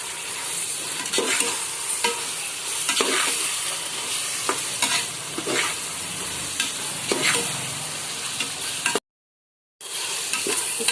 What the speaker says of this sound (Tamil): இப்போ புதினாவை சேர்த்துக்கலாம் நல்லா கலந்துக்கலாம்